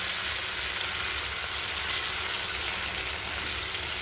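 Tomatoes hit a pan of softened, golden-brown fried onions and sizzle in a loud, steady, continuous hiss close by, with no voices over it.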